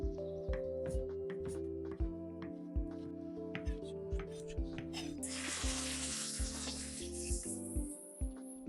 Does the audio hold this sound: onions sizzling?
yes